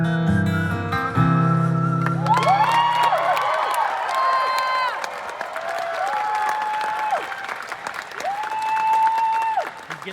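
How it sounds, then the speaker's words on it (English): An audience at an outdoor FreshGrass music festival concert claps and cheers loudly after a song, with whoops and piercing whistles rising over sustained applause as the last notes fade. "He's getting a good crowd reaction."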